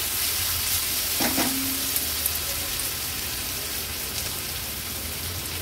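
Ginger garlic paste sizzles in a pan in a dense, even hiss that fills the scene, with a brief utensil clink early on and no voices.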